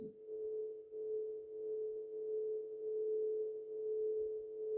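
A steady, pure meditation tone holds unbroken at moderate volume, humming alone and quietly for several seconds with a slight swelling and fading.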